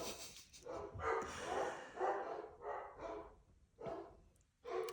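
Dogs bark in a string of loud, close bursts, about six sharp barks separated by brief pauses, with no talking.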